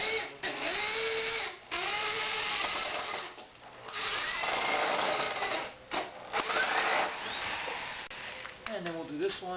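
A power drill whirs in long steady runs while driving into a wooden outdoor wheelchair ramp, with brief pauses between bursts and some talk mixed in.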